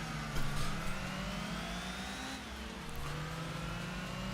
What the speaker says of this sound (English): How's she sound when she's revving?